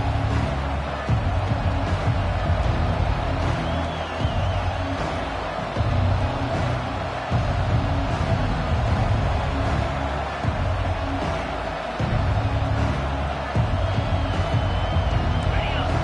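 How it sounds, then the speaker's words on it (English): Stadium crowd roar from an NCAA college football video game, a steady dense hubbub of cheering that swells and dips with short pauses, loud and continuous throughout. "This crowd trying to show them what it's going to be like all day in this house."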